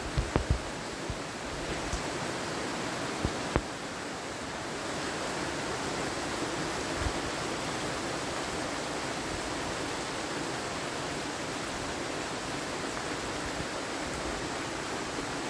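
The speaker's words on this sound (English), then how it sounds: "hear the rain?" Steady rain falling around a porch, a dense, even hiss filling the whole stretch with a few soft taps near the start and no talk over it.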